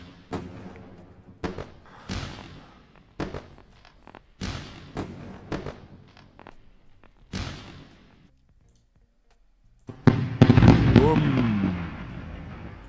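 Fireworks bursts during a live futures day-trading stream: a string of sharp, loud booms at irregular intervals, then a short quiet gap and a dense, sustained crackling burst near the end.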